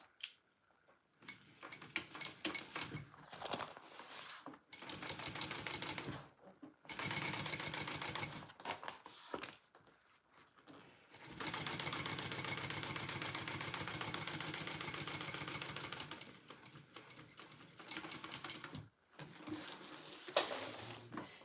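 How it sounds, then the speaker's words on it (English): A sewing machine top stitches along the base of a mini bowler bag, running in several separate bursts of steady, rapid stitching with short quiet pauses between them, close and moderately loud. "we're top stitching along the base"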